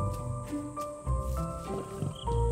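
Lions during mating, with low rumbling growls and snarls rising in bursts over a dense wildlife soundscape, fairly close and loud, with several swells across the short stretch.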